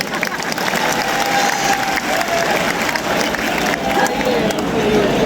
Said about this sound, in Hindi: और अब इसके समापन पर तालियां बजनी चाहिए